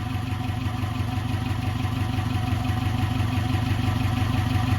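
A car engine idles at about 800 rpm, a steady low, even throb with a faint mechanical clatter running evenly throughout, close by and free of speech.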